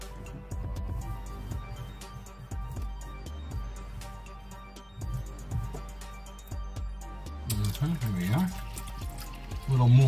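Water splashes and trickles into a water dish inside a blue-tongued skink's enclosure, in short pours and drips close by, with a person talking over it.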